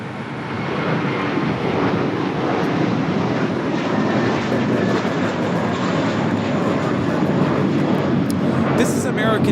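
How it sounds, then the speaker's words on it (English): An American Airlines Airbus A321 takes off from Los Angeles bound for Dallas-Fort Worth. Its loud, dense jet roar builds quickly and then holds strong, with speech faintly present under the engine noise. "This is American Airlines 1230 taking off to Dallas-Fort Worth on the A321."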